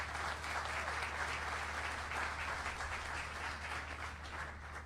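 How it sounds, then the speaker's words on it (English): Audience applause for the Color Guard at a city's State of the City address, a steady roar of many people clapping in a large hall, sustained and even over a low constant hum, with no talking. "How about a round of applause for the Color Guard?"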